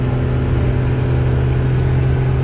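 A stock second-generation Cummins 12-valve diesel truck running 20 psi of boost pulls hard on a quarter-mile pass, a loud, close, unbroken deep engine roar and rumble with no talk.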